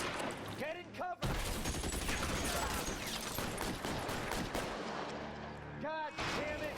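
Tommy gun bursts in L.A. Noire crackle in a dense, sustained rattle of rapid shots for several seconds, loud and close, with brief sharp reports at the start and end.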